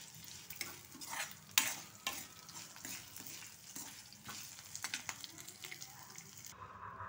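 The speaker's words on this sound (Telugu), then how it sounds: "ఇది ఇప్పుడు మన పులిహోర కలుపుకున్నట్టుగా కొంచెం కలిపేసుకోవాలి" Spiced tempering being stirred into cooked rice for citron (dabbakaya) pulihora, with close, steady scraping and mixing in the pot under faint sizzling and low background noise.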